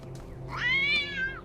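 A single cat meow in the video game The Talos Principle 2, a clear rising then falling cry lasting about a second, moderately loud over a quiet low background hum.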